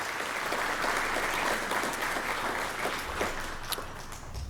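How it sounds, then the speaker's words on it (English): A crowd at a real estate luncheon claps steadily for several seconds, a dense, even wash of applause with a few sharper claps standing out near the end. "Can we get a round of applause for our sponsors as well?"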